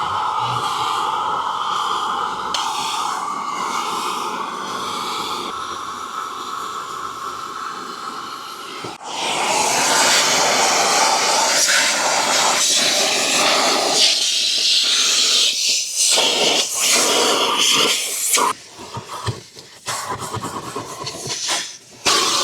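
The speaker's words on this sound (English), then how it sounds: "begin the first round of vacuuming" Car vacuum cleaner running steadily during interior detailing of a car with white seats, a continuous loud hiss and whine that grows louder and rougher midway, with brief dips as the nozzle moves.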